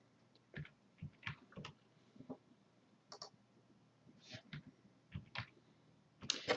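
A computer mouse clicks while someone draws in SketchUp. The clicks are quiet and scattered, some single and some in quick pairs, with faint keyboard taps between them in a quiet room.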